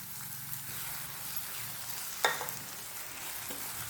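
Ground tomato goes into frying onion, pepper and masala for spicy egg pepper masala, a soft continuous sizzle with a sudden wet splash and stirring, close and quiet, no talking.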